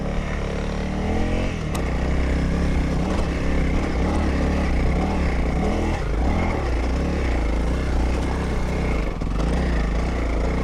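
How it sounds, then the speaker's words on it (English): A small Honda CRF dirt bike ridden off-road in second gear, its engine a loud, continuous close drone that holds steady throughout, with no voices over it. "Second gear, baby! Good job, little CRF."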